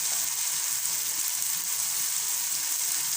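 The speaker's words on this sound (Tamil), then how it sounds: "தேவையான உப்பு போட்டு நல்லா வெங்காயத்தை வதக்கிக்கலாம்" Onions with salt sauté in a pan for chilli chapathi, making a steady, close sizzle that lasts throughout without talk.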